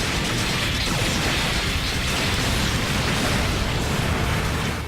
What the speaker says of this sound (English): See all those explosions? That's me.